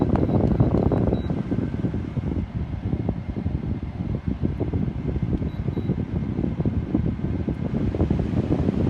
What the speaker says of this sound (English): Let me get this temp down so y'all can hear the compressor turn on.